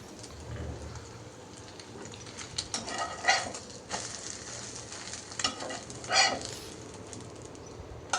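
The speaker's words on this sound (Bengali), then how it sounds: "রুটি ভাজার আগে ডিমও ভেজে নিচ্ছি।" Eggs fry in a hot pan for breakfast, giving a steady, close, broadband sizzle with a few louder crackling bursts and faint stirring scrapes; no talking.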